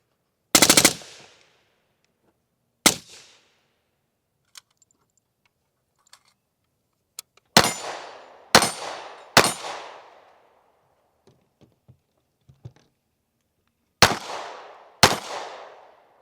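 Suppressed rifle fired at an outdoor shooting range, the Drifter: about eight sharp reports spread across the stretch, some single and some in quick pairs, each with a short decaying tail, separated by near silence.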